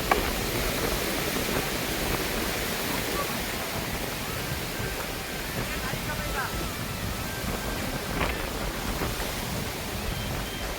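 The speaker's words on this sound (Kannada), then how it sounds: "ಮಳೆ ಜೋರಾಯ್ತೈತೆ" Heavy rain pours down in the woods at a campsite, a loud, dense, unbroken wash of noise from start to finish.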